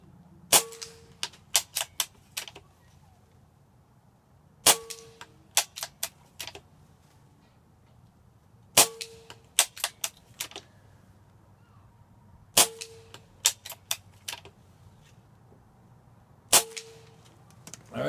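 A Benjamin Armada .22 air rifle fires JSB Diablo Exact Jumbo Heavy pellets, five sharp, loud cracks spaced about four seconds apart, each followed by a quick run of fainter clicks and clatter, in a quiet setting.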